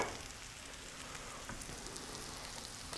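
Meatballs fry in a pan with a steady, close sizzle and crackle that holds evenly throughout, with scattered sharper pops and no voices.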